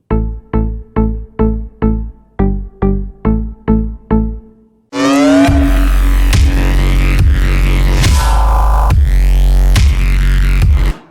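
A Serum synth bass recreating the sound from a track. A run of short, evenly spaced plucked synth notes gives way to a loud, sustained buzzing bass with rhythmic accents.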